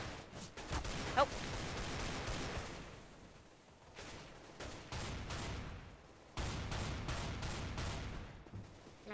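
Gunfire in the game CS:GO, bursts of rapid automatic shots in quick clusters with short pauses between volleys, sharp and fairly close, with no talk over them.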